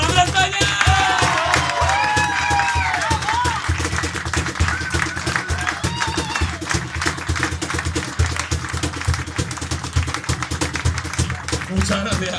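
Concert audience applause and cheering, loud and continuous clapping with whistles and shouts, while a voice talks over the noise partway through.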